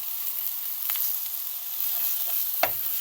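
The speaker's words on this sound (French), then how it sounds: "On laisse cuire à feu doux, à feu très doux la première face" Sardines frying in a pan on very low heat, a steady fine hiss and crackle throughout with a couple of soft clinks, close and even, no talking.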